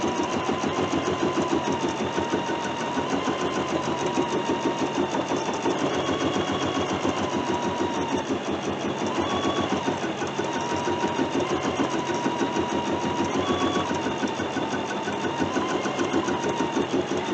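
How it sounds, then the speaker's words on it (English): An embroidery-module sewing machine stitches edge-to-edge quilting through a hoop, a steady fast mechanical whir and needle rattle running continuously at even volume with no talking. "I will then quilt the other half, just like I'm doing this one, with just this much between my hoop and the harp of my machine"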